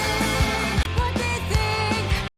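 Double-tracked rock guitars heard in a song mix under review, loud and dense with steady rhythmic chugging under drum hits for a couple of seconds before cutting off abruptly.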